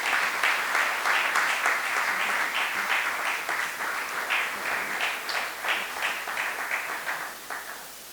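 A worship gathering's audience applauds together in a sustained, even burst of clapping that carries on for several seconds before tapering off at the end.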